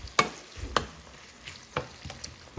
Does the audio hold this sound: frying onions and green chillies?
yes